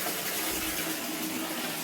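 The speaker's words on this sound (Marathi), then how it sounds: "आता पाणी आलंय बाय जरा पाणी भरू" Tap water gushes steadily from a household faucet into containers, a continuous broadband splash with no pauses and no voices over it.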